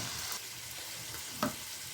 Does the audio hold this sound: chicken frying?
yes